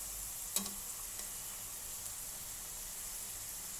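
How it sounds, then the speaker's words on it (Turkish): Homemade potato chips fry in oil with a faint, steady hiss and crackle, broken early by one brief clink of a utensil turning them over. "şimdi patateslerimiz kızarırken böyle alt üst yapmamız gerekiyor"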